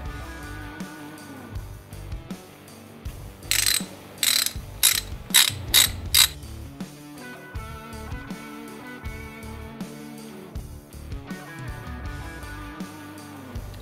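Ratchet wrench with a T27 bit snugging down chain tensioner bolts on a Harley-Davidson M8 motorcycle, heard as a steady run of close, loud clicking pawl strokes in several bursts, with no talking.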